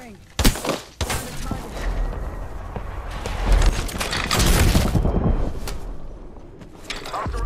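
Video game gunfire in Skull Town: sharp shots and bursts crack out at irregular intervals, with a loud volley near the start and denser, heavier firing around the middle, all over a steady rumbling game soundscape.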